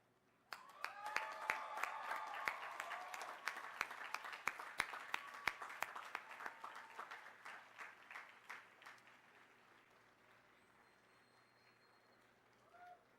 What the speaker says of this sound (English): giving those people a well-deserved round